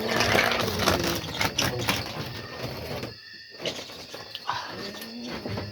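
A dog barks and whimpers close by in bursts at night in the Philippines, with a short quiet gap partway through before the noises pick up again.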